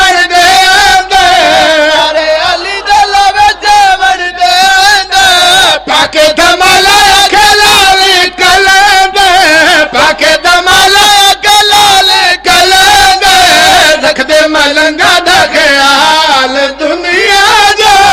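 Loud crowd chanting religious slogans in praise of Ali at an annual majlis in Lodhray, Sialkot. Massed voices rise and fall in a steady rhythmic chant throughout, dense and close.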